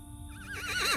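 A horse in a video game whinnies, a short rising neigh with quavering pitch that swells louder toward its end, heard alone.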